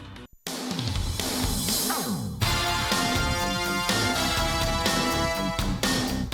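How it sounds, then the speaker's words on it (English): Upbeat electronic video game menu music, bright synth melody over a driving beat, loud and continuous after a brief silent gap at the start. "That menu music really slaps."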